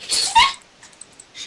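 A dog barks and yelps briefly in a video game, a short close burst at the start followed by faint scattered noises.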